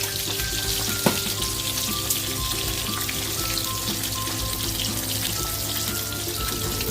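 Vegetables go into a pot of pork ribs nilaga at a rolling boil: a steady, hissing bubble with a few faint clinks, no voices.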